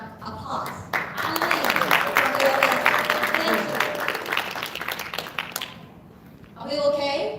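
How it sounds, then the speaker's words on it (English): Audience at a Detroit China Day cultural event breaks into thick, loud applause that swells and then fades, with a voice speaking over the microphone once it dies down. "Let's give her a round of applause."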